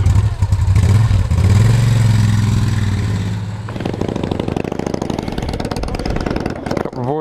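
A Moto Guzzi and a Yamaha FJR motorcycle idle and then pull away for a mountain ride, a close rumbling engine giving way to a clattering, revving note, with a voice briefly present.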